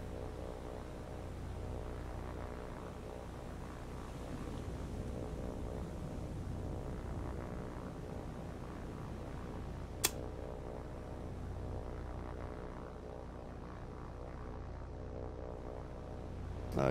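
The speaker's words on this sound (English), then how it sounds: "Seriously, a scout plane?" Aircraft engine drone of a scout plane flying overhead in the War on the Sea naval combat game, a steady broadband hum persisting throughout with one sharp click partway, no talking.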